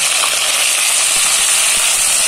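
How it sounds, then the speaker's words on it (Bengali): Garlic, ginger and cumin paste frying in hot oil for a village-style duck curry with potatoes, a steady loud broadband sizzle running unbroken throughout, with a few faint scraping stirs underneath and no voices. "মশলাগুলো একসাথে ভালোভাবে ভেজে দিচ্ছি যাতে কাঁচা গন্ধ না থাকে।"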